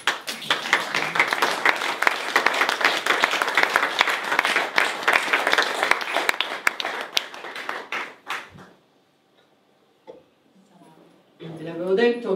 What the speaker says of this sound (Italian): Io direi di fare un applauso.